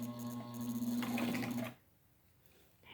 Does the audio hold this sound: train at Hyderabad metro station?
no